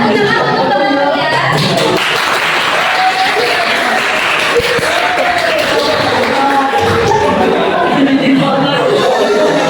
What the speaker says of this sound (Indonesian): Tepuk tangan untuk teman-teman ya.